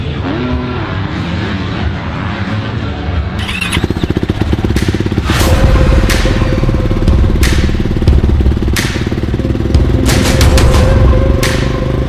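A motorcycle engine idles with a rough, clattering rumble, then revs up loudly and repeatedly in sharp bursts close by.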